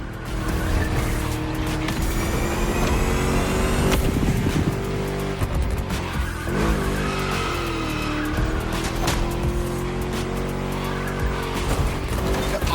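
A V8-powered car in The Crew Motorfest roars close and loud with a chunky, gritty engine note, revving up and down between shifts while tires squeal and skid through corners.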